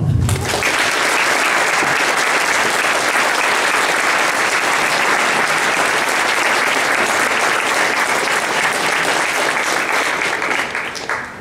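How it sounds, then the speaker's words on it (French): Sustained applause from a debate audience, steady and full for about ten seconds before tapering slightly at the end. "merci de les applaudir chaleureusement"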